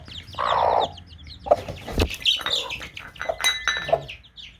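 Hen clucking near newly hatched chicks, with short close clucks and higher chirps from the chicks scattered through, moderately loud.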